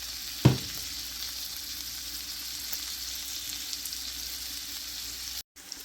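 Food sizzles steadily in a hot pan for garlic lime chicken, opening with a single sharp clack as something drops in. A constant close frying hiss follows, broken by faint stirring scrapes, with no talk.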